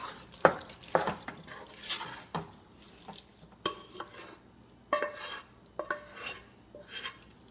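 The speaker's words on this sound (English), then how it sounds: "we're just gonna mix in the cheese sauce into our al dente noodles" Al dente noodles being stirred together with cheese sauce in a pot, with a spoon knocking and scraping against the metal in uneven bursts, close and fairly loud, alone without talk.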